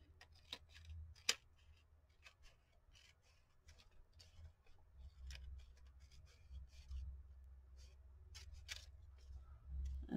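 Scissors snipping along a paper border for a collage, quiet scattered cuts and clicks near at hand against a low rumbling background, with occasional sharper snips.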